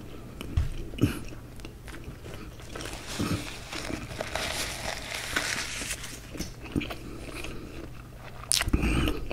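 Close, intimate bites and chewing of a McDonald's Double Sausage & Egg McMuffin at breakfast: soft crunches and moist mastication repeating in an irregular rhythm, with no talking.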